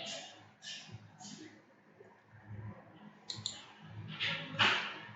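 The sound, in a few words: computer mouse clicking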